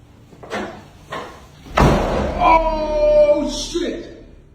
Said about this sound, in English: the heavy door slammed shut with sudden velocity